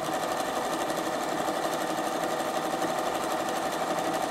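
A Bernina sewing machine runs continuously, stitching row upon row of metallic thread on black felt with a steady fast mechanical chatter up close and no voices.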